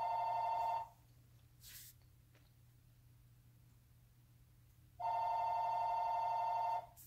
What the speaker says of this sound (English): I'm going to let the phone ring.